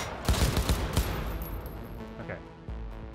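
Rapid bursts of automatic gunfire from the video game Cyberpunk 2077, loud and close in the first second, then continuing as a denser, rumbling volley of shots and impacts.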